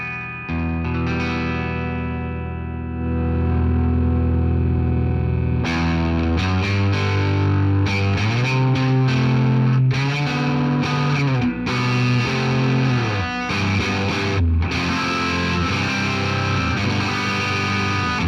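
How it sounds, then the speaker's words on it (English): Tall Bird tube spring reverb unit driven into a raw, clean, console-style overdrive on an electric instrument, playing sustained chords and phrases with spring reverb and a slight chorus-like shimmer, loud and steady with no talking. "It just sounds like a raw, clean overdrive."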